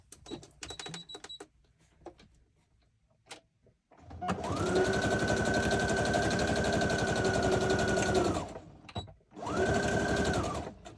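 Sewing machine running a tramline stitch along the edge of a craft folio, a steady loud mechanical whir lasting about four seconds, pausing briefly, then starting again, after some quiet handling clicks.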